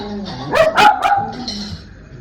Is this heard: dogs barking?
yes